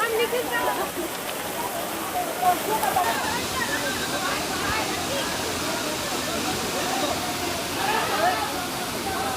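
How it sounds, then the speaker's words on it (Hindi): The Mahadev Kho waterfall in a hill forest pours steadily, a dense, even roar of falling water that fills the whole stretch without a break. "देख रहे हैं महादेव खो का झरना चल रहा है"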